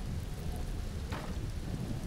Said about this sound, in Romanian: O ce ploaie